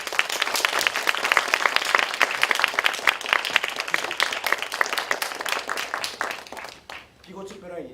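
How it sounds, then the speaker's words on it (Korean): Warm applause from a theater audience at a stage play, many hands clapping in a dense, steady patter for several seconds before fading out, with a voice speaking briefly at the end. "뜨거운 박수로 맞아주십시오."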